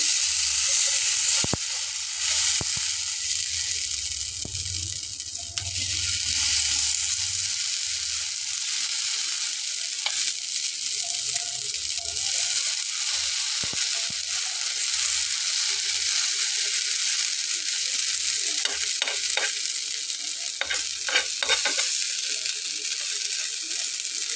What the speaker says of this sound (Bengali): একটা ফ্রাই প্যান দিয়ে তাতে তেল কিন্তু দিয়ে নিয়েছি আর এই নাস্তাটিকে এখন আমি দিয়ে নেব গরম হয়ে গেছে